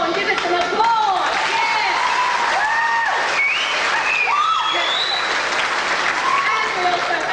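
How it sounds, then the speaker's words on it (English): An audience at a 1989 Year 12 school farewell show claps steadily through a costume parade, a dense, even wash of applause with voices sounding over it. "give it some applause"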